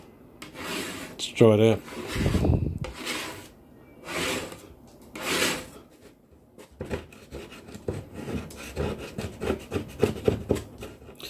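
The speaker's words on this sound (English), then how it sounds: "we'll see what happens when I try and scrape it off" Softened stain and lacquer are scraped off a wooden radio case, a NordMende Elektra 58, in several close, rasping strokes, followed by quicker repeated scraping, with brief talk.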